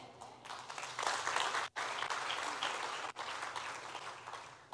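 A church congregation applauds in a loud, dense, sustained wash of clapping, broken by two brief sudden drops before it resumes at full strength.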